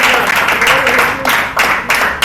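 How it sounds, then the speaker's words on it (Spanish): A church congregation breaks into applause during a sermon, loud, close clapping in uneven surges with a brief voice or musical tone underneath, cutting in and out over a couple of seconds. "Dar un aplauso al que vive."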